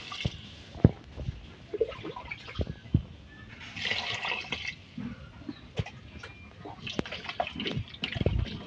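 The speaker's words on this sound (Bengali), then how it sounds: "মূলার টকের মধ্যে জল দিতেছি।" Water is poured into a pot of radish sour curry (mular tok) cooking in a Bangladeshi village kitchen, giving a soft splashing pour among scattered clinks and knocks at close range, fairly quiet overall.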